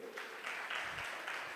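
Sustained applause from a seminar audience at a OneWave Web3 crypto project presentation, a steady dense clatter of many hands filling the room for the whole moment.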